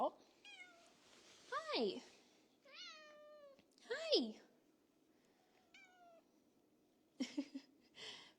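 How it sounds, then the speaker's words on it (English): Several cats at a wildcat sanctuary meow repeatedly in high, rising calls, with a soft purr underneath; a person briefly says a greeting between the meows. "Purrs and meows."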